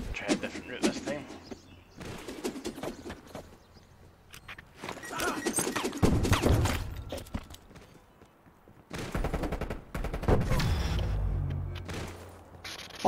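Gunfire crackles in a shooter video game's search-and-destroy match, with shots, bursts and impacts loud and close at intervals while a player talks throughout.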